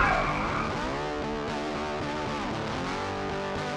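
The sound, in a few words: tire screech and car crash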